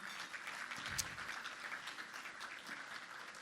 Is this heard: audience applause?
yes